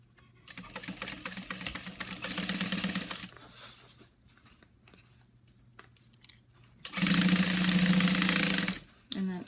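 A sewing machine stitches a seam on a bag panel with a half-inch seam allowance, running in two long bursts separated by a quieter pause, loud and close with a steady whirring drive.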